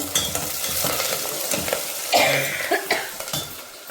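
Green chillies and curry leaves crackle sharply as they hit hot oil in a pan for a ridge gourd curry. The loud spitting and hissing comes in bursts mixed with stirring clatter, and a brief cough sounds nearby.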